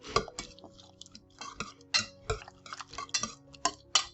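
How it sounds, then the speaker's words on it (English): Utensil stirring eggs and fried sweet potato together in a pan, with repeated scraping and clinking strikes against the metal at an irregular pace, close and moderately loud, with no voices. "I am going to stir all this together"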